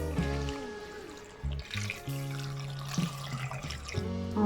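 Water is poured into a pot of potato curry, a close splashing and trickling stream with a few short breaks as the pour stops and starts.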